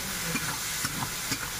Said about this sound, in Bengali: চিংড়ি মাছটা একটু ভাজা ভাজা করে নেব।